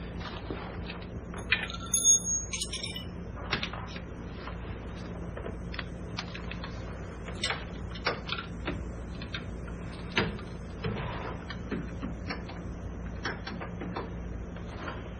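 A control arm bolt is tightened on a 1998 Jeep Cherokee XJ, with a continuous run of quick ratcheting clicks and metallic ticks, close and fairly steady, under a low background hum.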